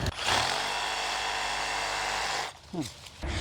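Black sugarcane is cut with a loud, steady buzzing tool for a couple of seconds, then the sound cuts off and a short burst of speech follows.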